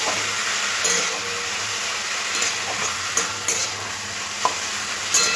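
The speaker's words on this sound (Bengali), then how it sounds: "আলুগুলো একটু হালকা ভেজে নিতে হবে।" Washed, drained potatoes fry lightly in a pan with a constant close sizzle, broken by a few sharp clacks and scrapes of stirring.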